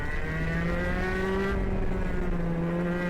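A 100cc single-cylinder, air-cooled two-stroke KA kart engine screams at steady high revs, loud and close, its pitch holding then dipping slightly midway before climbing again, with no talk over it.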